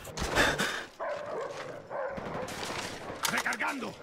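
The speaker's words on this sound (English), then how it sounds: "The enemy dogs." Enemy dogs bark in a team deathmatch of the shooter game Call of Duty: Black Ops on the Crisis map. Sharp barks are mixed with gunfire bursts and busy game noise, and players talk over the action.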